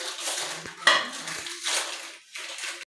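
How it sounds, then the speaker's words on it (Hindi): A spoon mixes fresh coriander into a chicken and grated potato filling in a bowl, making a few sharp metallic clinks and short scraping strokes with brief pauses between them. "ये सब्ज़ धनिया जाएगा, इसे भी करेंगे अच्छे से मिक्स।"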